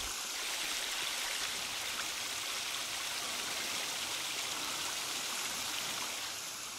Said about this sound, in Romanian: wow, ce tare s-aude apa asta